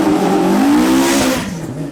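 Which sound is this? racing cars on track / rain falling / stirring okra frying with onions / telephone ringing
racing cars on track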